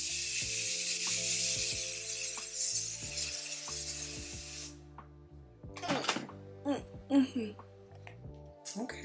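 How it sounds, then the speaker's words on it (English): A broadband hiss of makeup setting spray on a face for about four seconds over quiet background music, then the spray stops and a person speaks briefly. "I'm gonna take this and I'm gonna spray my entire face"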